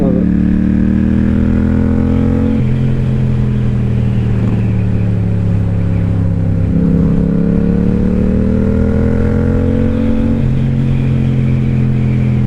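A group of Harley motorcycles rides past on a winding mountain road, loud and close. Their engines drone and rumble steadily, with pitch rising and falling as they shift through gears.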